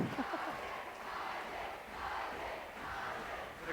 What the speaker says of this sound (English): The crowd continues to cheer Isaac.